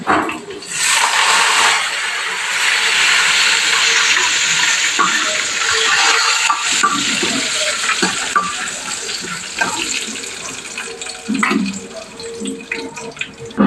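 Sliced onions and curry leaves hitting hot oil in a home kitchen for a dal rasam, a loud rushing sizzle that settles into a steady crackle with occasional clatter of a utensil.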